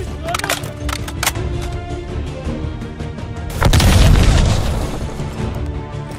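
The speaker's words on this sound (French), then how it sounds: "Je jette une grenade." A grenade explodes in Call of Duty: Black Ops Cold War, one loud, deep boom bursting out partway through over steady game sounds, with a rumbling tail that fades slowly.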